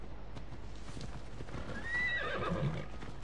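A horse in Assassin's Creed Odyssey gallops with steady clip-clop hoofbeats, then gives a loud whinnying neigh near the end, alone with no talk.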